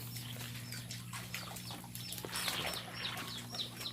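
Chickens and Muscovy ducks on a rainy-season farm give soft clucks and brief calls with a flutter of wings, fairly faint over a low steady hum.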